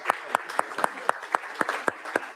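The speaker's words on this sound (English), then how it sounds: "let's give her a round of applause" Sparse applause in a legislative hearing room, a handful of distinct, evenly spaced claps from a small group, crisp and fairly close with quiet room tone between them.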